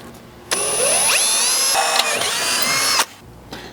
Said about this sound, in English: Just make sure, regardless of what style drill bit you choose to use, you at least throw on some safety glasses before you get started